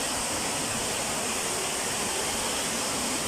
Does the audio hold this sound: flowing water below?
yes